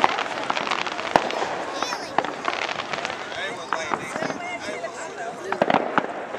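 Fourth of July fireworks in Lakewood, New York pop and crackle in scattered sharp bursts at a distance, alongside steady background noise as people talk among themselves.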